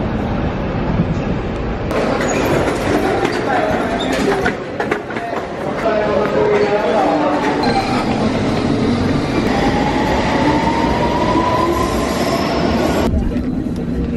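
An underground train rumbles and clatters steadily at close range, with wheels squealing on the track and a high metallic whine rising partway through.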